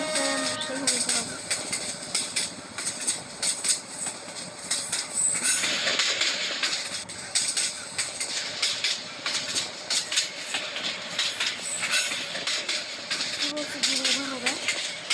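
A train runs steadily in a Bangladesh train simulator video game, with a continuous rumble and rail noise throughout and a voice talking over it.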